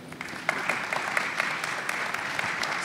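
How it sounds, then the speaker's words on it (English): An audience at a crypto investing panel claps steadily for the panelists, a continuous wash of hand claps at moderate volume with no speech. "please give a round of applause to our panelists"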